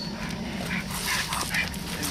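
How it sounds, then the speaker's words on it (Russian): A small dog makes faint whimpering, yipping sounds on an outdoor walk, partly buried under steady wind and street noise. "О, какая собачка"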